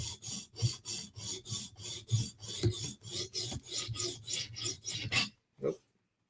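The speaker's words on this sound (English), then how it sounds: "So we're using my 150 grit stone." Knife heel being sharpened on a 150 grit stone: a steady run of rhythmic rasping strokes, about a dozen close scrapes back and forth, loud and alone, ending with a brief pause and one final stroke.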